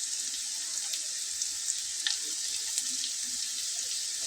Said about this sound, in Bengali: খুব ভালো করে ভেজে নিতে হবে।